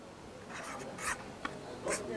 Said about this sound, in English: And I write it down the first number which has come to my mind.